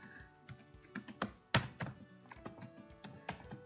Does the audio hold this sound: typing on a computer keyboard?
yes